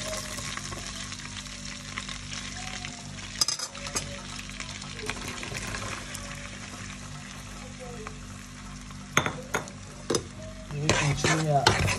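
Chopped onion sizzles steadily in melted butter in a pan, a continuous frying hiss running throughout, with a few louder stirring scrapes and clinks of a utensil against the pan near the end.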